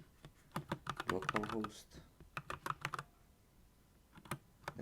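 Computer keyboard typed in quick bursts of clicking keystrokes while entering a database command, with a spoken word over part of the typing and short pauses between the runs of keys.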